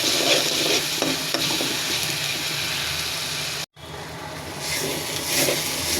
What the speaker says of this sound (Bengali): মরিচের গুঁড়া দিয়ে দিলাম। নাড়াচাড়া করে নেব।